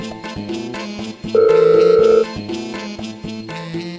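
A telephone rings out on an unanswered call, its repeating ringtone melody with a louder, sustained bell-like burst in the middle, close and clear with no talking.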